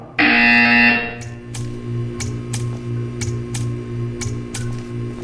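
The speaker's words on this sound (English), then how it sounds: "You will hear a buzzer." A loud, steady electronic buzzer from the Portal 2 video game sounds for about a second, then gives way to a quiet hum with a regular series of short, faint ticks.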